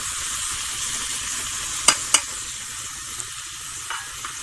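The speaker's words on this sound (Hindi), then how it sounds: "इसे अच्छी तरह भूनेंगे" Okra fries with tomato, salt, chili and turmeric in an Indian achari masala dish, giving a continuous bright sizzle with two sharp clinks of a spoon against the pan partway through, no voices.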